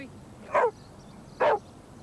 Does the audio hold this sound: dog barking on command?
yes